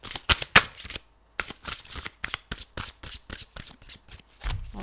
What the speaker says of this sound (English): this is way longer than I usually shuffle